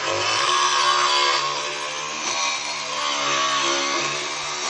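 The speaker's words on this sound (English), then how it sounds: "it is actually a diamond cutting instrument, just like your normal power tools" A high-pitched powered diamond dental tool whines continuously and loudly while grinding a horse's teeth, its pitch wavering slightly, with no voices.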